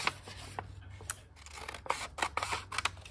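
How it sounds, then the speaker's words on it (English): Scissors make soft, close snips and rustles while trimming the folded edges off an envelope for a cookbook binder journal. The cuts are quiet and irregular, and there is no talking. "I like to cut the folded parts off too, because it won't, I need it to adhere flat. So I'm gonna trim very so slightly."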